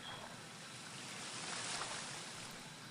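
A waterfall beside a cave in the video game EverQuest gives a steady, soft broadband rush of falling water, even and continuous throughout.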